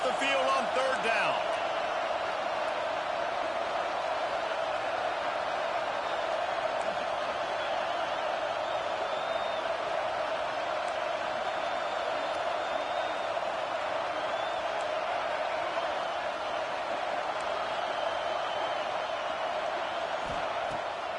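A home crowd in a college football video game roars as a defense tries to get off the field on third down, a steady, dense wash of cheering that holds at an even level throughout.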